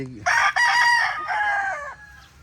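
A tall rooster crows once, close and loud, its long call rising then trailing off, over a faint low background hum.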